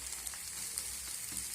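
Eggs frying in mustard oil in a wok, giving a steady, close hissing sizzle with faint crackles running throughout, no voices present.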